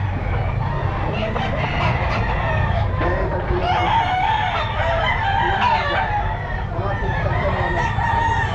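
Kelso stag rooster crowing at a busy pet market, several loud crows with clucking fowl nearby and faint chatter in the background.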